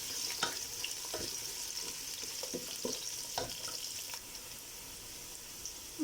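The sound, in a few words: frying khichuri ingredients together in a pan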